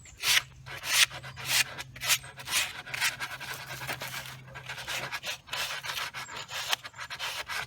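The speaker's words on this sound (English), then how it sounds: "This is a really good quality sandpaper." Wood sanded by hand with good-quality sandpaper, giving a close, steady run of rhythmic rasping strokes, each a brief loud scrub with short pauses between.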